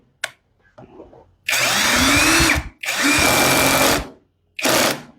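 A GearUP cordless brushless hand drill drives a screw tight in three loud whirring bursts, the motor spinning up and cutting off between them, with small clicks and handling noises before the first run.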